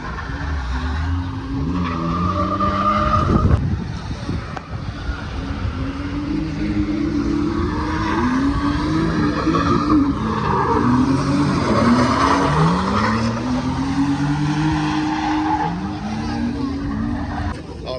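A drift car at a drift event slides with long, rising and falling tire squeals over a steady engine roar, loud and fairly close, with crowd chatter in the background.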